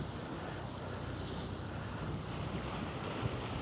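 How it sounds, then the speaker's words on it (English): Ocean waves crash and wash against the shore below a cliff in a continuous roar, mixed with wind rushing across the microphone, and no voices. "there's a lot of waves crashing in down along here"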